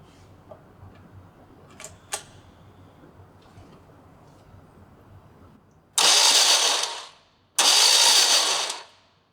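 Two loud bursts of a starter motor whirring as it cranks a BMW R90/6 motorcycle engine over, each lasting over a second, after a quiet stretch with a couple of clicks.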